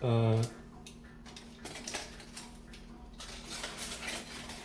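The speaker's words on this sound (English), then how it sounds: "I put the pot on here." A metal pot is set down on a gas stove with a few faint clinks and light knocks. A brief loud tone sounds first, and the rest is low-level handling noise nearby.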